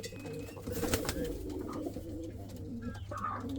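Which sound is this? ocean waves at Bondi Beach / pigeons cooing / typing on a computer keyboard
pigeons cooing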